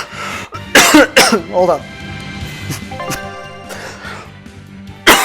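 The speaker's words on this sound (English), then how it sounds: "Damn that cough." A man coughs and clears his throat in several harsh, close bursts near the start, then speaks briefly before another cough at the end.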